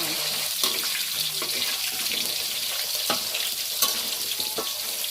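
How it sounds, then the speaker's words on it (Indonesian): Vegetables fry in a pan during home cooking, a steady hissing sizzle with intermittent clinks and scrapes of a utensil, close and moderately loud, with no talk. "Kita goreng cuma setengah setengah."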